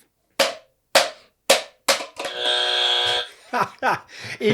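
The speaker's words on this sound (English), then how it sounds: "You're slamming the buzzer there 3 times" A game-show buzzer sounds in a sustained harsh tone after several sharp slaps of a hand on the button, followed by voices talking.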